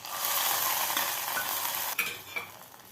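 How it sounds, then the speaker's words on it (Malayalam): Ghee-fried cashews and raisins poured into wheat flour kheer: a steady loud sizzle and hiss from the hot ghee hitting the pudding, with a small clink or two as it settles, no voices. "ഒരു ടേബിൾ സ്പൂൺ നെയ്യ് ഒഴിച്ച് കുറച്ച് അണ്ടിപ്പരിപ്പും മുന്തിരി ഇട്ട് ഇനി പായസത്തിലേക്ക് ഒഴിച്ചു കൊടുക്കാം"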